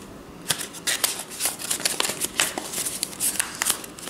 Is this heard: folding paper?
yes